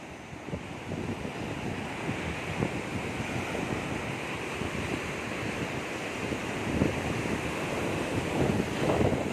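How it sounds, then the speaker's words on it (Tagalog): Sea waves breaking at the shore in Aparri, a constant rushing surf mixed with wind buffeting the microphone, swelling louder toward the end with no voices. "Dito na tayo sa Pari, sa dagat."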